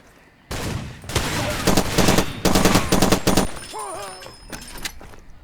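Rapid bursts of machine gun fire from Far Cry 2, several loud volleys in quick succession with short gaps, followed by a brief whistling, ringing tail.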